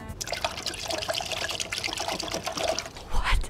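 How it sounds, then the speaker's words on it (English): Cold tap water running over boiled eggs in a kitchen, a steady close trickle and splash that swells into a louder gush near the end, with no speech. "I will just let the cold water flush it."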